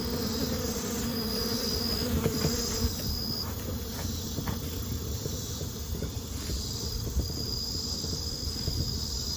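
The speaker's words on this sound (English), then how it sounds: "had a tree that's loaded with the bees, and that's because of the hive." A dense, continuous hum of many bees buzzing in an oak tree with a hive, steady and enveloping and echoing, with high insect trills drifting in and out and no voices.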